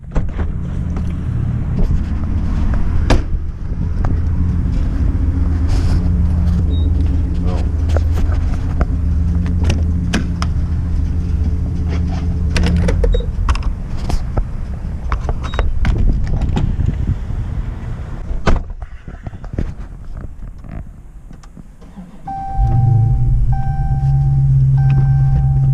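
Dodge Charger driving hard at stock tune, a deep engine rumble and exhaust drone under loud wind and road noise, rising and falling with throttle, then settling into a steadier lower hum near the end.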